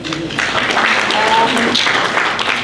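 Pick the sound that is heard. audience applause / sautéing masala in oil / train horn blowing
audience applause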